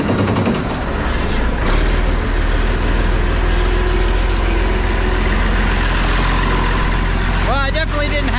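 Diesel engine of a 1066 tractor cranking over, then settling into a steady low rumbling idle that runs loud and close throughout, with a brief whine near the end.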